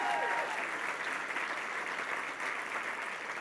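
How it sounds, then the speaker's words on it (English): An audience at an award speech applauds in a continuous, even burst of clapping that fills the room, moderately loud and sustained, with a faint voice briefly audible at the very start. "Let's give her a round of applause."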